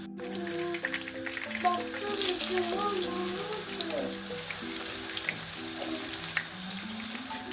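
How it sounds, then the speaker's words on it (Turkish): Steady crackling sizzle of eggplant frying in a pan, continuous and close, with faint tonal music underneath throughout. "İlk öncelikle bir tarafını kızartalım daha sonra döndürerek diğer tarafını da kızartacağız."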